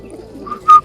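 Pigeons kept for pigeon flying give a brief, low coo close by, with a soft rising note at the end.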